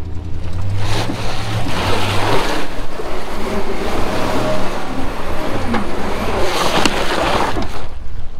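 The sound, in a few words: red pickup truck driving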